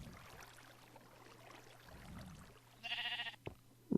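A sheep in a block-building video game gives a single short bleat near the end, fairly clear over a quiet background with a low steady hum.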